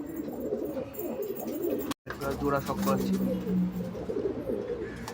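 Pigeons coo in a loft where Andhra and Madras breeds are kept, low soft calls repeating under steady chatter and a voice talking over them.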